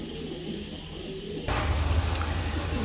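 White racer pigeons coo in low, soft, throaty bursts that begin partway through and repeat over a steady background hum.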